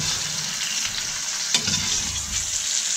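A thick ribeye sears in butter in a Griswold cast iron pan, with a loud, steady sizzle close up and a brief clink as the butter is basted.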